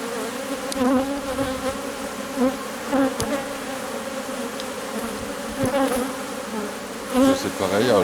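Honeybees buzz densely around an opened hive, a close, continuous hum that swells and fades as individual bees pass near.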